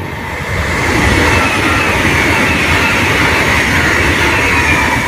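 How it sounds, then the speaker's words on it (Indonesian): The Whoosh high-speed bullet train passes close by on its way out of a tunnel, a loud broadband rush that builds quickly and holds steady, with no talk over it. "Oke, kereta lewat dari tunnel 10."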